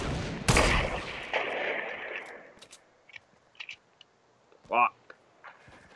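Gunfire in the game Fortnite: a loud opening shot with a long decaying echo, followed by scattered fainter cracks and clicks, under brief bits of talking.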